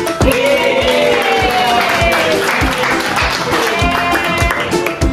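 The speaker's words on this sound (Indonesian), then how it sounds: "tepuk tangan buat Ken" A class of students applauds for Ken during an economics lesson on demand, producing steady, dense clapping that fills the room for about five seconds without letting up.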